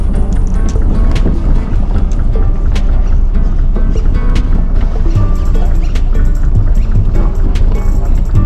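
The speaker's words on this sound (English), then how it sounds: "Okay, I'm gonna put the engine neutral." Sailboat engine idling in neutral while leaving a harbor near Cozumel, a steady loud rumble mixed with wind buffeting the microphone and water noise, with no talking.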